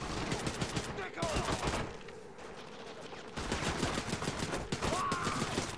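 Rapid automatic gunfire rattles in Medal of Honor: European Assault, loud close bursts that pause briefly midway and then resume.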